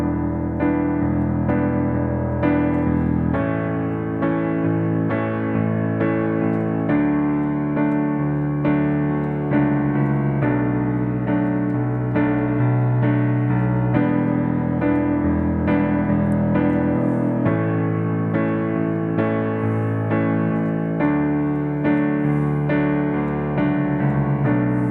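Piano accompaniment for a song: full right-hand chords struck on each quarter note over a rhythmic left-hand pattern, steady and moderately loud throughout with no voices.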